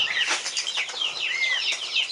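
Young poultry in a farmyard peep and cluck continuously, high chattering calls close and fairly loud with no talking.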